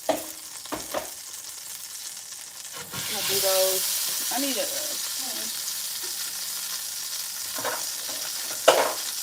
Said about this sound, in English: So what you hear is this. This is the crab claws.